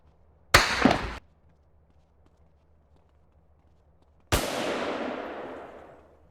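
Two separate loud gunshots in the video game MTA San Andreas, a short sharp blast and then a second with a long decaying tail, divided by a few seconds of quiet background hum.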